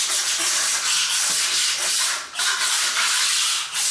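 A long-handled floor razor scraper rasps steadily across a floor, lifting old glue in continuous close, loud scraping strokes, with brief dips in between and no talking.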